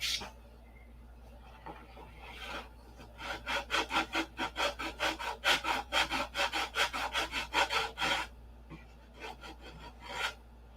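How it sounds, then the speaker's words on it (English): Hand sanding on a P-47 model airplane, a rapid run of rhythmic rasping strokes that swells in the middle and tapers off, close and alone. "to sand on that a little more"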